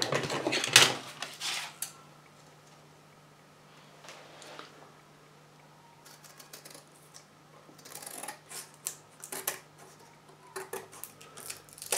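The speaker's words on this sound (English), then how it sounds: "So all I got to do is get it out again and cut these edges off." Scissors snipping the edges off a painting canvas during an oil painting restoration: close, irregular cuts and crisp rustles, with a louder handling noise at the start and clustered snips toward the end.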